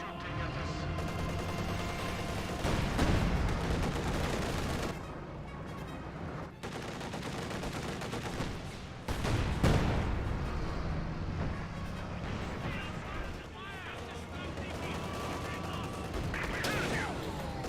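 Artillery barrage and gunfire in Company of Heroes 2, with sharp bursts and heavy impacts around 3 and 9 seconds over continuous crackling small-arms fire, with a voice talking over the battle.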